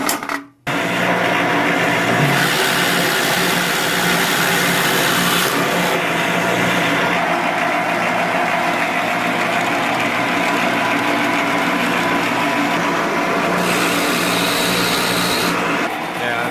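A Shopsmith bores a hole in a clamped wooden table leg for a folding table, a loud steady motor drone running close for the whole stretch, with a brief dip early on.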